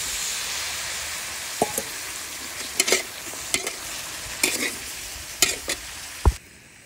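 Carrots and cauliflower stir-fry in a pan, a steady soft sizzle broken by sharp scraping clinks of a utensil stirring against the metal, close and alone.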